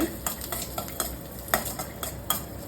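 Cashew nuts fried in melted butter are stirred in a pan, a soft sizzle broken by rhythmic scraping strokes of the spoon roughly every half second, close and fairly quiet.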